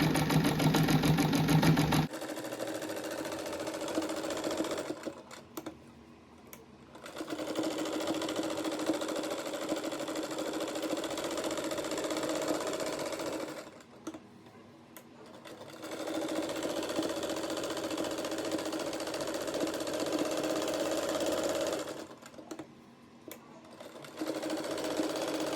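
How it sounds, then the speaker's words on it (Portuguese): A sewing machine stitches a rug made from denim jeans, running in long steady whirring stretches with a rhythmic mechanical hum, broken by short pauses between runs, loud and close with no talking. "agora eu vou passar a costura. Eu começo a costura aqui, perto dessa rodela ali"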